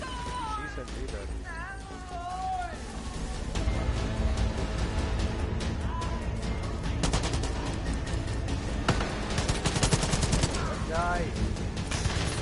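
Rapid gunfire in the video game Far Cry 5 crackles in sustained automatic bursts that grow louder and denser midway through. Voices talk over the shooting, with whistling game sounds near the start.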